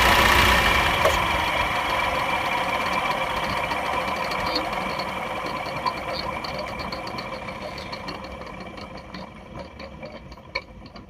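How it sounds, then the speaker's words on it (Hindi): A Maruti Suzuki Brezza diesel engine idles with a steady whirring, fan-like hum from a broken fan layered over it, close and continuous, slowly easing slightly in loudness. "जब भी हम गाड़ी को बंद करेंगे ना तो एक फैन चलने जैसी आवाज आती है"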